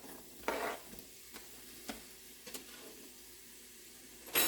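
Onions frying in plant butter in a hot skillet give a faint, steady sizzle, broken by a few sharp clacks and scrapes of stirring, with a louder burst at the very end.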